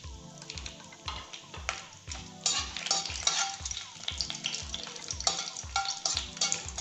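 Whole spices fry in hot oil for a Telugu chicken dish: bay leaves, a cinnamon stick, cardamom, cloves and round red chillies. A soft steady sizzle runs under regular scraping strokes of a spoon stirring the pan.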